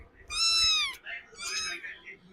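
A pet cat gives two clear meows in quick succession, the first long and rising, the second shorter, close and fairly loud against a quiet home background.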